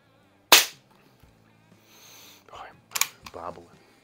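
A Daisy 753S single-stroke pneumatic .177 target rifle fires one sharp, close crack, followed moments later by some quieter clicks and mechanical handling noises.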